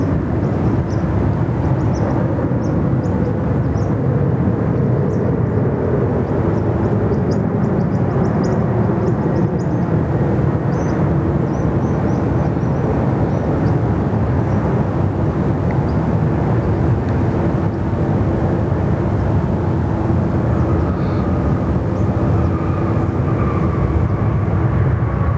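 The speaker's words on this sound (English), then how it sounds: "Here we go, Qantas 12 from Los Angeles" Qantas 12 airliner from Los Angeles landing at Sydney Airport, a long, continuous engine rumble at moderate distance whose pitch shifts slowly as the aircraft comes in, with no talking.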